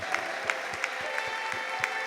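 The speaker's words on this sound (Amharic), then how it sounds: "ለጌታ ለኢየሱስ ክርስቶስ ክብርና እልልታ ጭብጨባ አምጡ" A church congregation applauding, heard as a fairly faint, steady patter of rhythmic clapping spread across the room, with a few louder individual claps.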